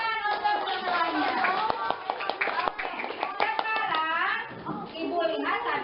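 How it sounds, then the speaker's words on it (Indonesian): Fourth-grade students in an elementary classroom clap for everyone, with scattered, uneven hand claps mixed with lively children's voices and talking. "tepuk tangan untuk semuanya"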